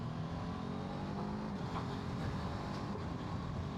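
A BMW F450GS motorcycle climbs a steep hill in third gear, its engine droning at a steady, moderate pitch with rough, buzzy texture and a faint rise in effort, heard continuously from on board.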